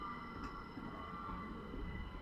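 Class 377 electric multiple unit 377601 standing at East Croydon station on the Brighton Main Line, giving a steady low hum and whine of traction equipment with faint station ambience, no talking.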